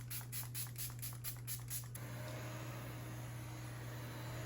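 Milani Make It Last Original makeup setting spray pumped in a quick burst of about eight rhythmic hissing sprays over two seconds, close up, then a quiet room hum.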